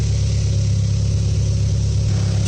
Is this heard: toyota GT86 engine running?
yes